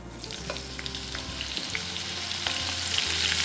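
Chili dropped into hot oil already seasoned with cumin and asafoetida sizzles loudly and steadily, with stirring scrapes in the pan and no talking.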